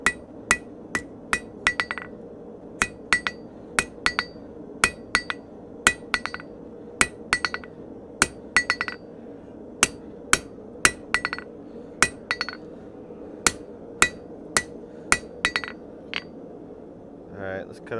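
A blacksmith's hammer strikes hot metal while forging, landing a long run of evenly spaced, ringing blows close by, with a few quick double taps between the heavier hits.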